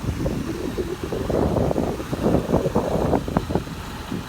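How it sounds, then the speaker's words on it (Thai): Strong wind buffets the microphone in loud, gusty bursts, a rough low roar rising and falling throughout with no speech. "โอ้ลมแรงมากครับ"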